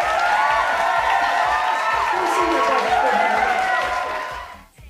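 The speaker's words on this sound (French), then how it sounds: "on applaudit bien fort Anna" A crowd cheers and claps loudly and continuously for a few seconds before the noise fades away, at a raffle draw.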